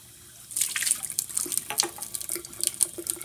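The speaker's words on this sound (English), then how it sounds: "you're going to want to make sure that you rinse out the inside of each of your beakers here" Lab beakers rinsed under a running sink tap, with steady water flow, close splashing and light intermittent clinks of glass; no one speaks.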